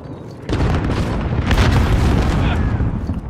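A frag grenade detonates in Call of Duty Modern Warfare, a loud booming blast with a rumbling tail that fills the clip amid game chatter.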